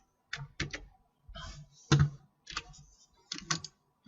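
Keyboard shortcuts tapped on a computer keyboard while working in SketchUp: close, crisp key clicks in small clusters of two or three, separated by quiet gaps.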